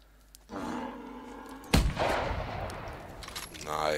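A loud rifle shot fired at a male moose in theHunter Classic, a sharp blast about midway followed by a rolling echo and lingering ambience.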